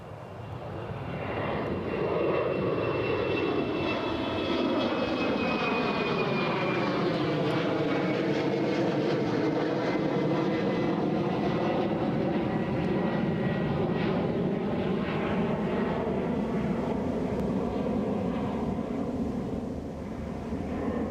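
An airliner takes off at Newcastle International Airport, its engines roaring loud and steady for about twenty seconds with a faint rising whine on top; no one speaks.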